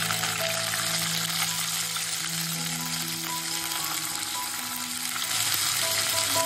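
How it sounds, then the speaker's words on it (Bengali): Green beans frying in hot oil with nigella seeds give a steady, close sizzle that holds evenly throughout, with no voices over it. "শিমটাকে কিন্তু একটু ভেজে নিতে হবে, তা না হলে কিন্তু গন্ধ ছাড়বে।"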